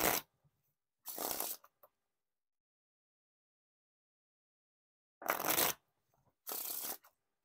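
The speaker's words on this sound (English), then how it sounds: "Now time for the riffle shuffle or bridge shuffle." Riffle or bridge shuffles of a deck of Silver Lounge Edition Jetsetter playing cards, four short crisp bursts of cards riffling close up, separated by long silent pauses.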